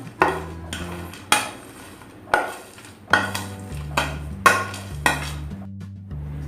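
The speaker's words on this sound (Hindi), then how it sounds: "अब इसके अंदर मैं ये भुने हुए हैं ये डालती हूँ, नारियल बूरा और ड्राई फ्रूट्स है ये, और ये क्रश किए हुए मखाने भी डालती हूँ मैं इसके अंदर" Roasted grated coconut, dry fruits and crushed makhana tipped into a pan for Janmashtami panjiri, giving several loud, close clinks and scrapes of a spoon against the pan at irregular intervals, with a soft background tune.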